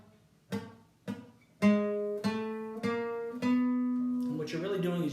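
Plucked guitar notes played with sloppy left-hand fretting: five separate picked notes, each ringing with slight buzz and muddiness, the last blurring into a messy, noisy tone, heard alone and up close.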